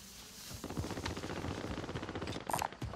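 Rapid automatic gunfire in Call of Duty Warzone rattles in a sustained burst of dense shots lasting a couple of seconds, with a sharper louder crack near the end, fairly close.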